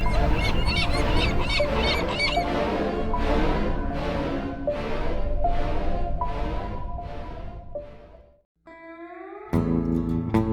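Seagulls calling in a quiet Norwegian village in the Vesterålen archipelago, a loud, close run of repeated harsh cries in steady rhythm, then a brief pause and another burst of calls.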